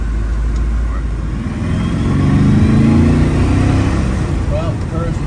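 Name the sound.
1971 Aston Martin DBS V8 accelerating hard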